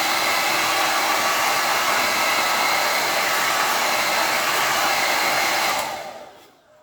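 A hair dryer runs steadily and loudly, drying paint on a pine candle holder, then switches off and winds down near the end with no talk.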